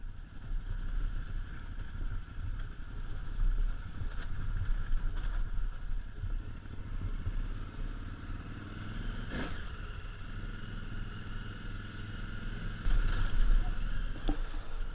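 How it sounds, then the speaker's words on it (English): A KTM 950/990 Adventure motorcycle coasts down a rocky hill climb in first gear, its low engine rumble steady and continuous alongside wind noise, with no engine revving building up. "Now, descending the rocky hill climb, we tried to just keep it in first gear and let the bike coast."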